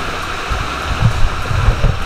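Waterfall water rushes and splashes below the falls at Daranak in Tanay, Rizal, a loud steady roar much like heavy rain.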